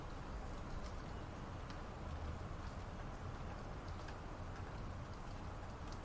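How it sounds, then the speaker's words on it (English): Rain falls in a soft, steady hiss, faint and continuous with a few light drip ticks, alone with no talking. "I only hear the rain now."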